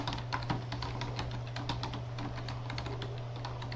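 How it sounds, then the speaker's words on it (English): Keys on a computer keyboard are tapped in a quick, continuous patter of light clicks over a steady low electrical hum. "you could type text here,"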